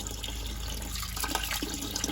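Water running and splashing as it drains out of a diesel mega truck, a steady liquid trickle close by with no talking.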